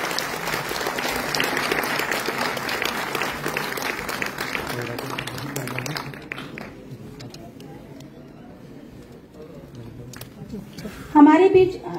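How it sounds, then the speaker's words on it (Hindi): Ceremony audience applause at a Jashn e Sangam cultural event, a dense roomful of clapping that fades away midway, leaving quiet room tone before a voice speaks near the end. "जोरदार तालियां तो होनी चाहिए सबके लिए"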